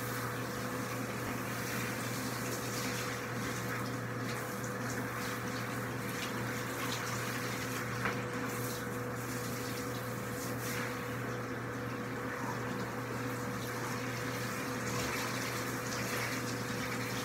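Water running from a tap into a tub while a dog gets a cool bath: a steady, faint hiss and splash of flowing water over a constant low hum from plumbing, alone and unbroken.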